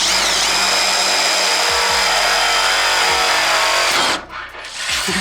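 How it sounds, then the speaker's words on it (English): A power drill whines loudly and steadily, biting through car body metal for a rivnut with a harsh grinding edge, then cuts out near the end as the motor winds down. "we're just gonna go in 1 more"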